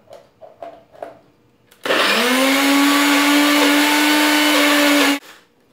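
A kitchen blender whirs loudly and steadily for about three seconds as it blends a yam brigadeiro mixture, starting abruptly after a few faint handling knocks and cutting off cleanly.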